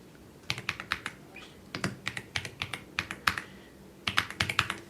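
Rapid bursts of keystrokes on a computer keyboard as C code is typed during a programming lesson, with clusters of close, crisp clicks separated by short pauses and no talking.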